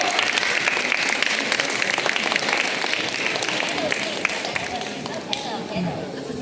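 An indoor crowd at an award ceremony in a Wan Chai shopping mall claps for students called to the stage: dense, steady applause that slowly tapers off, with voices mixed in.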